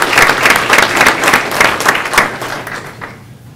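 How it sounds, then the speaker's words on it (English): An audience applauds a high school girl athlete honored as all-state, all-region and all-district at a school board meeting, steady loud clapping throughout that thins out and fades toward the end. "Give her a round of applause."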